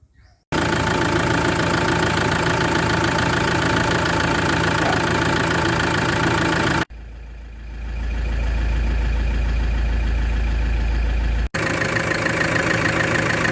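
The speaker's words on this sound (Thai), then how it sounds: "ลองสตาร์ทเครื่องครับ" A Toyota Hilux Sport Rider diesel engine cranks and fires, then settles into a loud, rough, clattering idle. The idle runs close and steady, with a brief drop in level partway through before it returns at full loudness.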